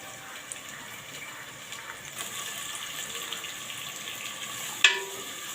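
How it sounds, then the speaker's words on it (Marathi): Finely chopped medium onions frying in oil with garlic, a soft steady sizzle with a faint watery hiss and one brief sharp crackle near the end, with no voices. "कांदा आपण चांगला मऊ होईपर्यंत परतून घेऊया"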